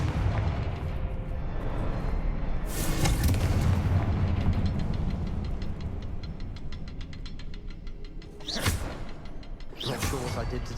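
Confringo spell blasts in Hogwarts Legacy burst into booming explosions and whooshes, with several heavy impacts over rumbling combat noise and a voice speaking.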